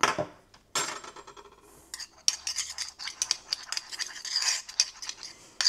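A utensil stirring a mixture with water in a bowl while making a chocolate and praline Easter entremet, giving irregular scraping and clinking strokes, close and fairly quiet, with short pauses between bursts.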